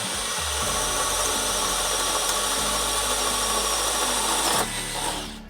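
A Dewalt 12V hammer drill on speed 1 bores with a 7/8 inch Diablo Speed Demon bit, a loud continuous motor whine with grinding cutting noise that stops near the end.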